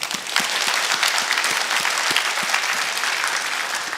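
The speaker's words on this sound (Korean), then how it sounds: "오늘 박수 한번 치죠." A church congregation breaks into dense, sustained applause, many hands clapping at once in a steady, moderately loud wash for several seconds, with no talking over it.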